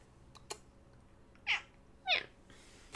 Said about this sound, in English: That was a little meow.